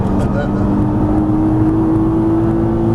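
Nissan GT-R on a racetrack under full throttle, a loud, steady engine drone with a sustained tone, close and continuous, while an instructor's voice talks over it.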